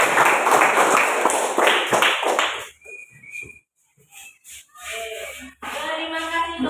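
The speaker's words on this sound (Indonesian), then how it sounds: "Oke, tepuk tangan yang keras." Classroom of students applauding loudly for a group presentation, a dense burst of clapping for about two and a half seconds, then scattered whistles, brief sounds and voices afterward.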